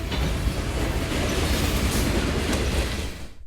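A GTW freight train rolls past on the tracks near Duplainville, a loud, dense, continuous rumble with clattering wheels that holds steady before cutting off abruptly at the end, with no voices.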